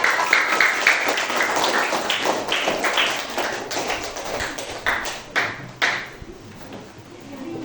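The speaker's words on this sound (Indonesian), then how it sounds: "Beri tepuk tangan kepada" A classroom group applauds a presenting group of schoolchildren, irregular clustered claps close by that fade and return in bursts.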